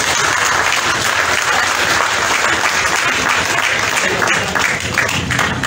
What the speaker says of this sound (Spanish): Y aquí lo vamos a celebrar, como es debido, con un fuerte aplauso.